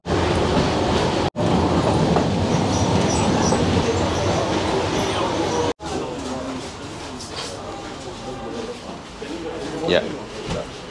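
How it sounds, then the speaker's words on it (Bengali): An Alexandria tram rolls along with a loud, continuous rumble and rattle of rail cars, wheel noise rising and falling, while people talk over it. "ট্রামে চলার কিন্তু আলাদাই মজা, সে কলকাতা হোক আর আলেকজান্দ্রিয়া"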